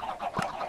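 A few soft clucks from chickens in the video game Minecraft, faint and brief, with no talk over them.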